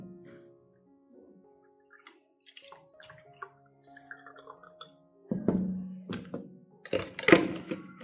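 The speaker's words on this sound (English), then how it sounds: "I pour the diluted tea and rice water solution into a spray bottle." Diluted tea and rice water solution is poured into a spray bottle, with quiet trickling, then louder gurgling pours and hollow plastic thunks close by.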